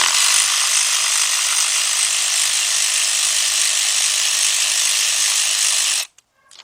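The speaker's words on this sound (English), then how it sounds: "take your bolt and screw it right back in" Ratchet wrench driving a bolt back into a Chrysler/Dodge engine, a fast continuous clicking whir close up that runs steadily for about six seconds and then stops abruptly.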